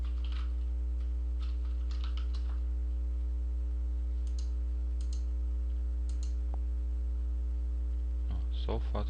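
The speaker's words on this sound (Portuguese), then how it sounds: "Aí eu vou digitar aqui." Computer keys clatter in short, faint bursts of clicks, separated by pauses, over a constant low electrical hum.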